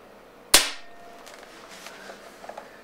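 A pellet air gun detuned for the Canadian market fires once with a single sharp, close crack that decays quickly into faint background noise.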